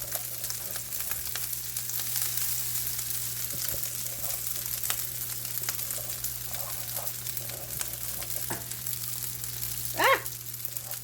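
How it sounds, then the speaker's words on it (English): Day-old jasmine rice sizzles steadily in bacon grease in a pan, a constant close hiss with a low hum underneath and a few faint clinks, ending with a brief louder scrape near the end. "You can kind of hear it sizzling."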